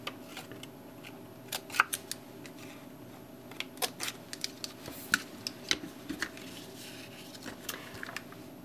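A corner rounder punch clips the corners of a paper card, giving a series of sharp, quiet clicks and snaps, irregular and close, over a faint background hum.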